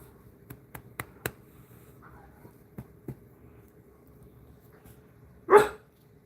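A puppy gives one short, loud bark near the end, preceded by a few faint scattered ticks and taps in a quiet room.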